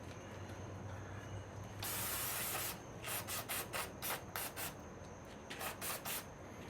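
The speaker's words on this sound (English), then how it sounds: "should I take this wipe and just wipe it?" A generator is sprayed and wiped clean by hand, a long steady spray hiss followed by a series of short rhythmic rubbing strokes, close and fairly quiet.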